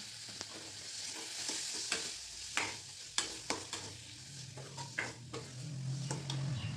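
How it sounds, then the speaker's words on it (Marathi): Chopped tomatoes with salt sizzle in a pan while a spoon scrapes and stirs them in a steady series of sharp strokes, close and clear with no talking, while cabbage bhaji is being cooked. "त्यानंतर टोमॅटो शिजवायचा"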